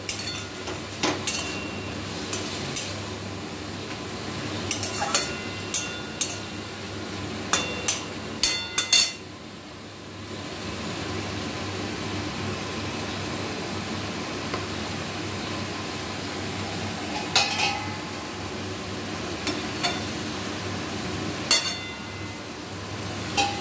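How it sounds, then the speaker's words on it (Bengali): A pointed gourd peel mixture with green chillies is stirred in a pan, giving intermittent clinks and scrapes of a utensil against metal over a steady background hiss, with a quieter gap midway and no speech. "এবার দিদি পুরো উপকরণগুলো ভালোভাবে মিশিয়ে দিচ্ছে নেড়ে নেড়ে।"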